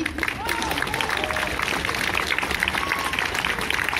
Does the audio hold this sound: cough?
no